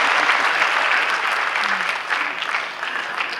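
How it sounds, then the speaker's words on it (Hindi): An audience at a Madhya Pradesh government event for democracy fighters breaks into sustained applause, steady and dense throughout with a faint voice briefly audible beneath the clapping. "आप ताली वाली बजा करके बता सकते हैं।"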